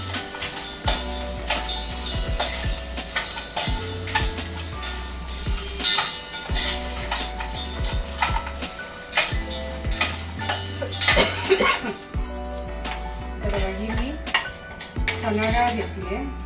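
Pieces of village crab, including the big claws, sauté in a pan and are stirred, giving clinks and scrapes of metal on the pan over a frying sizzle, with steady music in the background.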